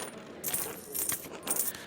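A few small coins clink as each player antes a pfennig into a card game in the video game Pentiment, quick, bright metallic drops in close succession with no talking.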